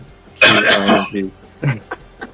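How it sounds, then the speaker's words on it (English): A harsh cough near the mic, followed by a few short throat-clearing bursts. "Somebody coughed right as you said it."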